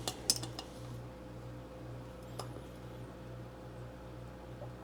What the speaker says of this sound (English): let me grab a wrench here